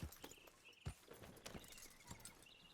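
A horse's hooves clop at a walking pace in Red Dead Redemption II, a series of quiet, irregular thuds under faint ambient game sound.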